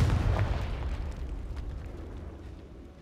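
A Confringo fire spell explodes in Hogwarts Legacy, inside a decaying catacomb: one loud, deep boom that rolls out into a rumble and fades slowly over a few seconds, with no voices.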